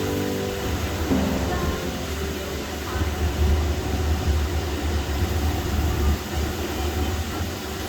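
The Bernina Express train rumbles steadily across the Brusio Circular Viaduct, a continuous loud onboard roar with rail clatter and a faint high whine, with voices talking beneath it.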